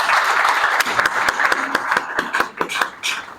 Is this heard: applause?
yes